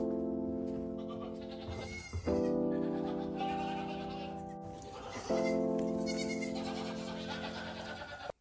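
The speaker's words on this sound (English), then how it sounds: "So these are baby goats." Several baby goats bleat loudly and close by, long wavering calls overlapping in bursts, one after another with little pause.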